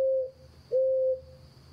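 Bird giving low hooting calls, two clear steady hoots separated by a short pause, close and isolated against quiet background.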